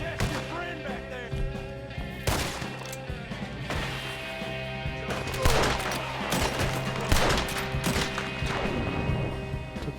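Gunfight in Red Dead Redemption 2, repeated sharp gunshots cracking out irregularly over a steady game background, several loud close reports with faint echoes trailing after each.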